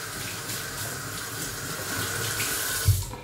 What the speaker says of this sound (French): J'ai déjà passé ma serpillière. Je vais le rincer.